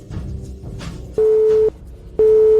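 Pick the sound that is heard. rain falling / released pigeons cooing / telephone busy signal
telephone busy signal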